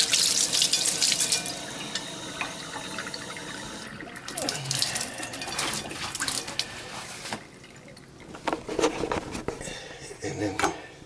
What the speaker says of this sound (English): we're going to clean it out a little bit before we put it back on by rinsing it